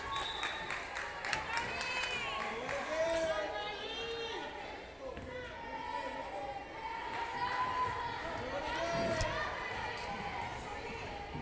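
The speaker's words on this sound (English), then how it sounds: "A lot of passionate fans about their team, staying loud" A sizable crowd of passionate fans at a volleyball match between Rivera and the Cardinals keeps up loud, steady cheering and chatter throughout, with whistles, squeaks and bursts of noise rising over the continuous din.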